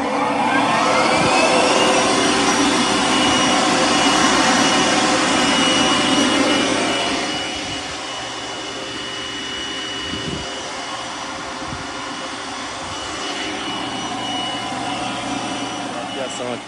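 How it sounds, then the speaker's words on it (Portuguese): Air compressor switched on and powered by an off-grid solar setup, a loud steady motor drone with broad hiss that starts at full strength and then settles to a slightly quieter continuous run, with faint talk underneath. "Eu vou ligar agora o meu compressor."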